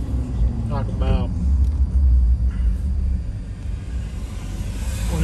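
A car rumbles along a road near the beach at Fort Myers Beach, Florida, a low, steady drone that swells and then fades, with people briefly talking over it.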